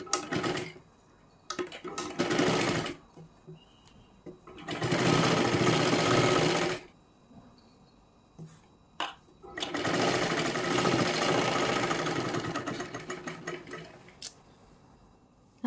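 Close, loud whirring of a sewing machine stitching a katori blouse, size 37, in short starts and two sustained runs of about two and five seconds, with small clicks and handling noises between them.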